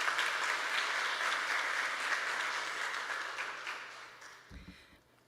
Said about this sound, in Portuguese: Uma salva de palmas para o senhor nesse momento.